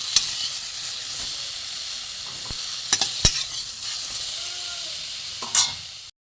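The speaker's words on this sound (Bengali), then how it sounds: "পটল মোটামুটি ভাজা হয়ে গেছে।" Sliced pointed gourd fries in oil in a pan, a steady soft sizzle with a few sharp clicks and taps of a spatula stirring, no voices.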